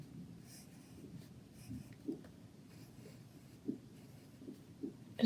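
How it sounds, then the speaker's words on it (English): Pen scratching out small patterned, stone-like shapes on paper in an abstract drawing, a soft, steady near scribble with a few light taps and strokes standing out. "So I'm just drawing these little shapes."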